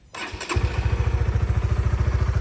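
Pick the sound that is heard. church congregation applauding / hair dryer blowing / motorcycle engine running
motorcycle engine running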